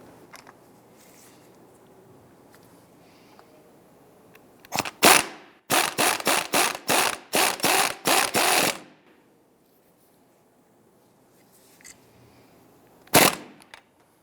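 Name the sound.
tightening strut mount nut on Chrysler 300 spring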